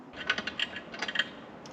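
A ratchet wrench tightens a loose bolt on a van, making a quick run of light metallic clicks in two short bursts, close and clear, with no voices.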